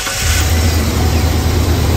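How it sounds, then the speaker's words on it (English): A 1996 Ford Econoline with a 7.5L engine idles while warming up, a steady loud low rumble close by with broadband noise and no talk. "we're gonna just start it up and let the engine warm up."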